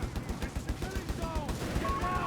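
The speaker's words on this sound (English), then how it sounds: "Actually got 2 50 caliber machine guns now" Heavy .50 caliber machine guns fire in a Company of Heroes 3 battle, a rapid, steady stream of low thudding bursts that continues throughout, mixed with other battle noise and a voice.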